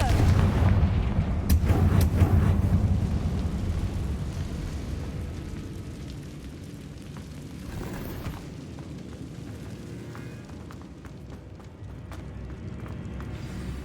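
Confringo blasting spell cast in a Harry Potter video game, with heavy booming bursts up front that roll into a long, low rumbling decay.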